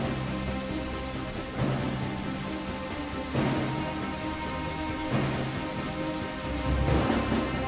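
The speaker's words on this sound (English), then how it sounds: "It is still raining lightly." Steady rain falling during heavy flooding, a constant wash of drops on surfaces with a few louder surging gusts through the stretch, and no voices.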